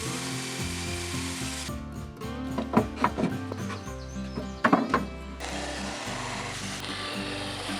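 Power saw cutting a board lengthwise on a bevel for a chicken coop lid, a steady mechanical drone with a few sharper scraping bursts midway, close and fairly loud, no voices.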